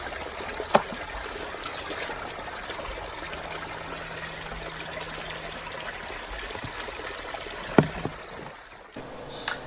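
Water runs and trickles steadily while gold concentrate is rinsed after a high banker test, with a couple of sharp knocks and a faint hum beneath the flow.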